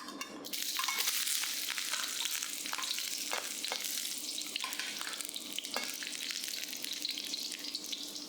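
Garlic dropped into hot oil in a pan, an abrupt burst of loud crackling sizzle that then holds as a steady hiss with occasional sharper pops.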